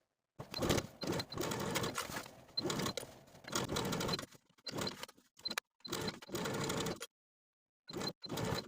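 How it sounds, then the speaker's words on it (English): Domestic sewing machine stitching bias tape binding around the neckline of a peplum top at a quarter-inch seam, running in several close, steady bursts separated by short pauses and a longer silence near the end. "Now I'm going to sew my bias tape all around the neckline within the crease in my binding that's closest to the outer raw edge."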